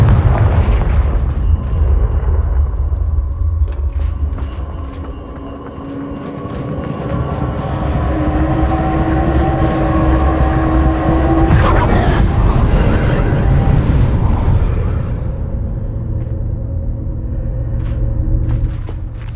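A Confringo blasting spell explodes in Hogwarts Legacy, a loud, sustained rumbling boom with deep low-end roar and crackling debris, swelling in the middle and fading over several seconds amid game music.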